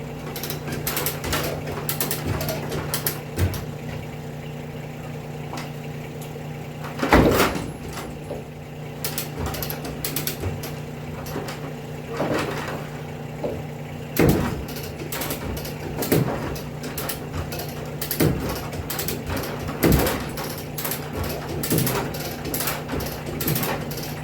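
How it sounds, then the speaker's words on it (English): Come-along ratchet cranked to pull a beam through a double rafter, giving repeated metallic clicks and louder periodic clunks over a steady mechanical hum, close and fairly quiet. "using the come-along to pull the beam through"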